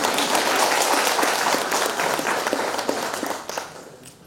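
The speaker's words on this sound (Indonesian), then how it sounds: "tepuk tangan dulu" An audience claps for newly installed PKK board members at an inauguration ceremony in Sorong, a dense burst of applause that gradually thins out and fades.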